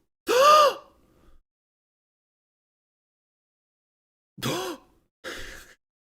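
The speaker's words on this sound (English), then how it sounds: "Gotta hit a good gasp every once in a while." A man's exaggerated gasps: one loud, sharp intake of breath, then two shorter ones after a long silence, each close and isolated.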